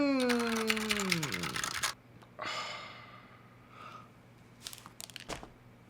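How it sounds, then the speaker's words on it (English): Someone types rapidly on a custom mechanical computer keyboard, producing a dense burst of close, crisp key clacks, then a few scattered quieter keystrokes and short rustles after a brief pause. "So what you listened to was a keyboard worth 230 US dollars"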